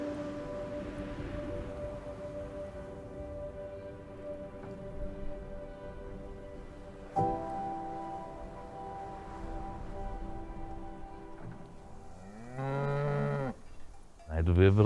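Cattle mooing in a rural field, several long drawn-out lowing calls layered over one another, fairly close and loud, with a rising, wavering moo near the end and no talk.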